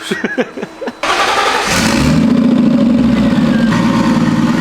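A cheap modified Volvo car engine roars up sharply after a brief quiet moment, then holds a loud, rough, steady high rev close by, drowning everything else.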